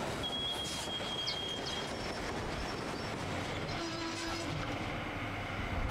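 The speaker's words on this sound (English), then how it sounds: "Oh, here's the train already." A train rolls past in the Sniper Elite V2 Remastered video game, a steady rumbling wash of wheels and carriages with faint squealing tones, continuous and fairly distant, with no talking.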